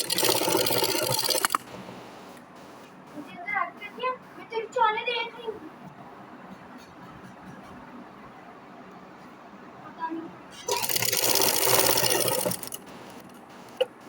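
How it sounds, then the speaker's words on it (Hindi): A sewing machine stitches fabric in two loud, steady whirring bursts at the start and near the end, with someone speaking quietly in between. "ये देखें हम एक पैर के फासले के पे हम इसकी सिलाई लगा रहे हैं"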